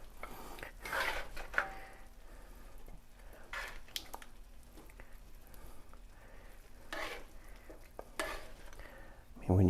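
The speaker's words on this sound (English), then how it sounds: "I'm going to dish some up on the plate so you can have a look." Vegetable stir fry is scooped from a pan onto a plate, with soft scraping and stirring clinks against a faint sizzle, quiet and close, ending in a louder clatter.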